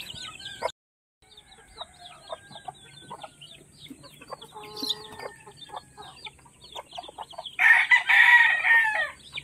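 A mother hen clucks steadily among peeping chicks near a nest, and a rooster crows loudly near the end.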